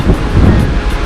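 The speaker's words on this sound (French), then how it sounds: "le vent est très favorable" Steady wind roars over a sailboat at sea in the Caribbean between Martinique and Dominique, a loud, constant broadband rush buffeting the microphone, with no voices.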